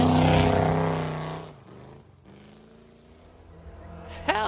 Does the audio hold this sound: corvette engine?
yes